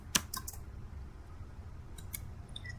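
A short command is typed on a computer keyboard at a network switch's command line, heard as a brief cluster of crisp key clicks at the start, a quiet pause, then a few more soft taps near the end.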